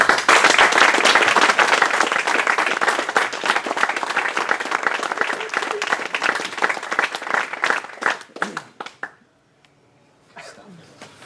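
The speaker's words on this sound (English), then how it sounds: "Big round of applause." A loud burst of audience applause, dense clapping that gradually thins and fades out, with a few voices at the end.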